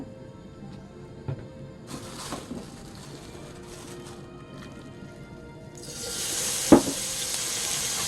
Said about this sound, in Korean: 소고기 볶겠습니다. 네, 기름을 약간 두르고요.